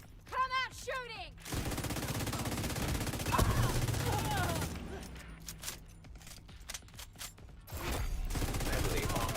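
Automatic gunfire in a cooperative shooter video game, loud rattling bursts of rapid shots mixed with mechanical clatter, broken into several volleys with short pauses, while a voice talks over parts of the action.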